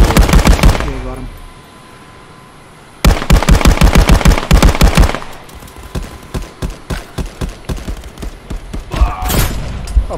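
Automatic gunfire in a VR shooter game, loud rapid bursts of shots with a quiet gap between them, followed by a slower run of single thumping shots.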